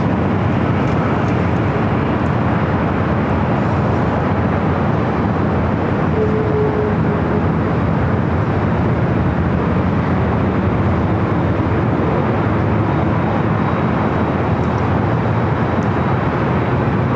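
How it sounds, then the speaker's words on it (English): An MSC Air Cargo Boeing 777, operated by Atlas Air, pushing back at LAX: a steady broadband jet engine roar and whine holding level throughout, with no talk. "So we got a second MSC Air Cargo 777 now pushing back."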